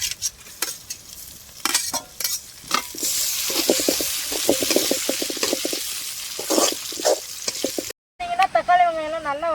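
Tomatoes tipped into fried onions and green chilies sizzle loudly in a pan for a fish curry cooked in a mud hut, with close, irregular clacks and scrapes of stirring throughout, then a brief voice at the end.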